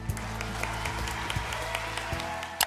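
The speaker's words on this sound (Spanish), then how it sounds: "Un aplauso grande para ti." Audience applause on a TV singing competition stage, La Voz Kids, a steady wash of clapping with some crowd noise and low music underneath throughout.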